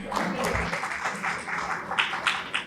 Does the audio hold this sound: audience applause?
yes